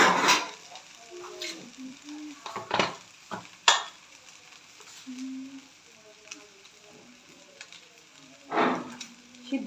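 Thai noodles cook in a curry cooker while a utensil stirs and scrapes the pot. Intermittent metallic clinks and scrapes come over a faint sizzle, and soft voices sit in the background.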